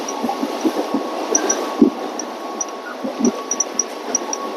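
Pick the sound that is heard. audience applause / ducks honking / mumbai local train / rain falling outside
mumbai local train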